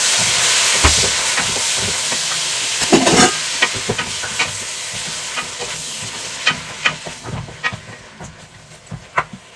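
Garlic and tomatoes sautéing in a pan for a Filipino pork dish, a steady close frying hiss with intermittent stirring clatters and spatula scrapes throughout, no talking.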